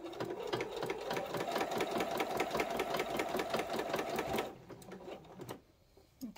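Sewing machine stitching fabric for a flower petal bowl cozy, a rapid steady run of needle strokes for about four seconds, then stopping, followed by a few faint handling clicks.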